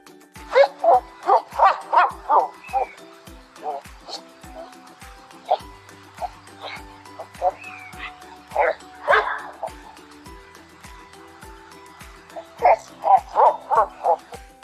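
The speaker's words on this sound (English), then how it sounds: "Dog." Farm dog barking in quick bursts of repeated yips and woofs, a fast cluster at the start and end with scattered single barks and a short whine between, close and loud with no talk.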